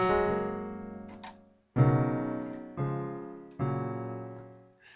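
Yamaha grand piano virtual instrument chords in FL Studio ring out one after another, each struck firmly and left to decay, with brief pauses between them.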